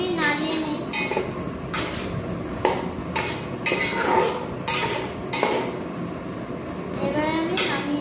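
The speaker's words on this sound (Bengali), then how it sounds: "আর একটুখানি নাড়িয়ে নিই।" A spoon scrapes and clinks repeatedly against a pot while pumpkin greens curry with bori is stirred, rhythmic metallic taps over a soft cooking sizzle, close and moderately loud.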